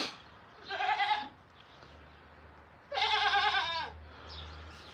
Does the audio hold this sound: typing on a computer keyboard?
no